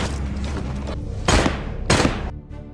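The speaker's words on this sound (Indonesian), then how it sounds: "si wanita yang memegang pistol langsung menembak Asep" Two heavy pistol shots in an action film, each a loud booming blast about half a second apart, ringing out over a dense, noisy soundtrack that fades at the end.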